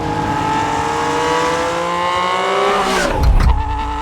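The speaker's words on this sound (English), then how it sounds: "Hear the pops, you know it's flaming out the back." A race car engine drones steadily, then a burst of sharp popping and crackling from the Inconel and titanium exhaust near the end as the revs drop, flames coming out the back.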